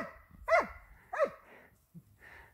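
A young hunting dog barks during wild boar training, two sharp, loud barks close by followed by a softer yelp, with quiet gaps between.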